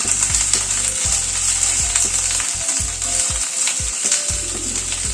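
Capsicum, red bell pepper and onion sizzle loudly in a hot pan as they are tossed, a constant bright frying hiss broken by repeated low thumps of the pan and stirring.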